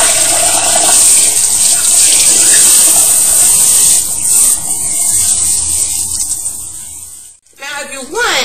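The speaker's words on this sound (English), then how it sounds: "I'm going to rinse it with cold water." Cold tap water runs in a loud, steady gush while virgin Indian natural curly hair is rinsed after co-washing, then briefly cuts off and returns in a splashy burst.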